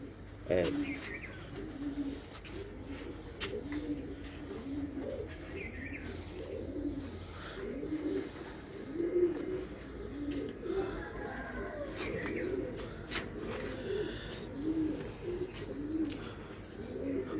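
Soft, low cooing of pigeons repeats throughout, with occasional chirps and a faint flutter of wings against quiet background noise.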